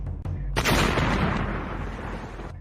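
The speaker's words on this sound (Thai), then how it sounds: "มีเสียงระเบิดอย่างรุนแรง" A deep, powerful explosion booms out after a short thud, followed by a long rumbling roar that slowly fades.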